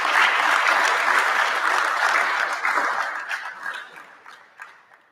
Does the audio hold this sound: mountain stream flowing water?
no